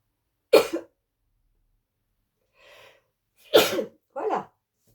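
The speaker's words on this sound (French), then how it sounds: "Je sens que je vais éternuer." Two sharp, loud sneezes ring out close by about three seconds apart, each followed by a short, softer breathy sound, with near silence in between.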